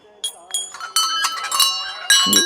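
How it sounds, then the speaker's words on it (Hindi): A chain of temple bells at Tadkeshwar temple rings in a quick, uneven series of bright metallic strikes, each leaving a shimmering, overlapping ring close by. "एक घंटी की श्रृंखला है और इसकी एक मेलोडी साउंड मैंने आपको सुनाई है अभी"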